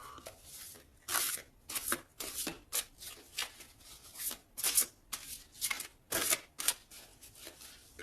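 Tarot cards being shuffled and cut by hand, a run of crisp riffling bursts repeating in an uneven rhythm, close and fairly quiet, with no talking.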